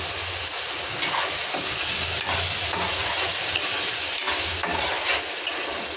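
A ground tomato, onion and coconut paste sizzling and frying in hot oil with masala for a chicken gravy, a constant crackling hiss broken by occasional stirring scrapes, close and fairly loud.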